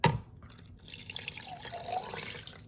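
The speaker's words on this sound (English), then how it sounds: "We're gonna fill this pot up really quick here." Tap water runs into a cooking pot in a home kitchen, a splashy start followed by a steady, moderately loud rush of filling water with no talk.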